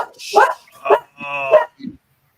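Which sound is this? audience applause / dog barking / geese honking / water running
dog barking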